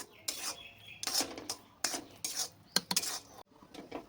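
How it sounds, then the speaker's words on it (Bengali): A spoon scrapes and knocks against a pan as semolina cooked in milk is stirred, in repeated uneven strokes, some sharp and metallic, close and fairly quiet. "এবার খুব ভালো করে নেড়ে চেড়ে একটু শুকনো করে নিতে হবে"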